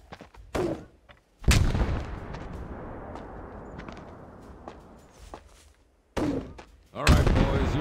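Mortars launch in the war game Mud and Blood: several heavy, booming thumps, two close pairs separated by a long rumbling decay, with brief game voices between them.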